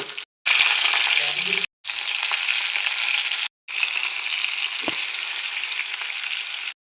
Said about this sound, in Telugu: పచ్చిమిర్చి కూడా వేసుకుని వేగించుకోవాలండి